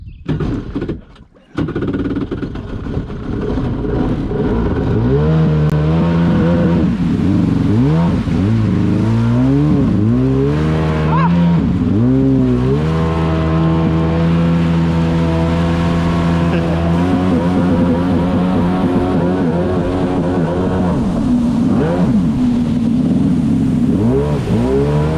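A Honda TRX 450R ATV starts up and revs hard while riding, its loud engine surging and dropping in repeated close rev sweeps, then settling into a sustained high drone for most of the clip.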